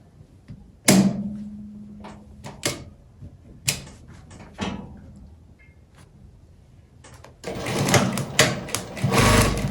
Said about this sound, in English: I'm going to be stitching with 1/4 inch.